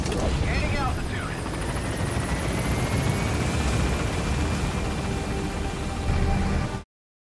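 Helicopter in the video game Metal Gear Solid V climbing during an extraction, a steady loud rotor and engine roar that holds level throughout and cuts off abruptly at the end.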